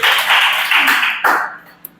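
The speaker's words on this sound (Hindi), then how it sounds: "ताली बजा लो" Several quick hand claps in a dense burst at close range, fading toward the end, with no speech over them.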